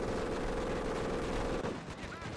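Sustained rapid gunfire from a turret in Company of Heroes: Blitzkrieg Mod, a dense steady rattle that stops abruptly partway through and leaves quieter battlefield noise.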